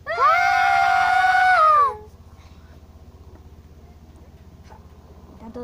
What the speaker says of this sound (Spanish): tienes que gritar, ¿vale?